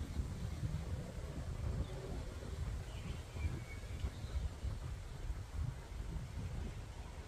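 Strong wind gusts outdoors, rumbling low and steady against the microphone for several seconds, with a faint hiss of rain or surf behind it and no talking.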